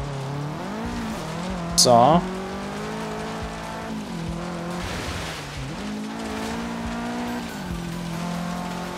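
Car driving in the racing video game Forza Horizon 3, a steady engine drone that rises and falls with shifts and throttle changes and has one brief sharp squeal, under someone talking.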